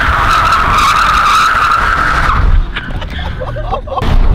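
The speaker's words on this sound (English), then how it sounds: "So I've decided to drift this entire fucking street." A car drifting down a street with loud, sustained tire squeal and engine roar close by, the skid easing off partway through before the tires screech again at the end, with a voice faintly under it.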